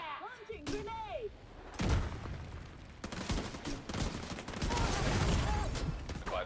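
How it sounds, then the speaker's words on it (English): Weapon fire and a launched grenade in The Division, with bursts of gunfire, booming blasts and thuds in a loud, chaotic firefight; a brief synthetic voice line sounds near the start. "Launching grenade."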